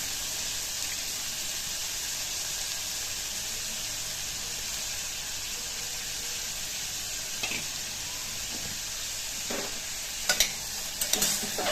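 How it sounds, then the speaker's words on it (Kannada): Finely chopped bitter gourd sizzles steadily in a hot pan, with a constant frying hiss and a few scraping stirs toward the end; no voices. "ಬೆಂದಮೇಲೆ ಒಂದು ಹಾಗಲಕಾಯಿ ಹೆಚ್ಚಿಟ್ಕೊಂಡಿದ್ದೀನಿ ಸಣ್ಣಗೆ, ಅದನ್ನು ಹಾಕ್ತಾಯಿದ್ದೀನಿ."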